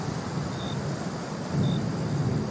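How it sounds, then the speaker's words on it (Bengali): Heavy rain and low thunder roll as a backdrop in a classic Bengali audio story. The wash is dense and steady, and the rumble deepens briefly halfway through, with no voices. "বৃষ্টির বিরাম নাই।"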